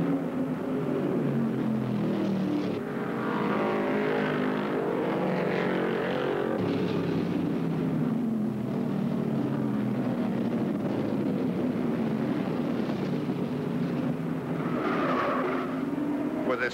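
Stock cars racing at the 1974 Dogwood 500, Ray Hendricks leading in his number 11 Nova: a steady, loud roar of engines throughout, with cars swelling past and fading over a busy crowd-like wash.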